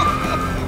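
A farm tractor spins out in a handbrake skid in Farming Simulator 22, giving a steady, loud tire squeal over engine drone that holds through the whole moment without a break.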